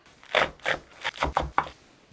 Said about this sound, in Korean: 쫑쫑 채를 썰어주세요. 상추를.